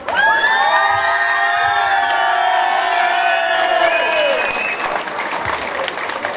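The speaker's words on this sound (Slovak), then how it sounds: "Potlesk!" Loud, sustained applause from an audience at a CD launch concert in Bijacovce, with cheers, whistles and whoops from a dense crowd, tapering off after several seconds.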